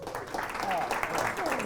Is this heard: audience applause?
yes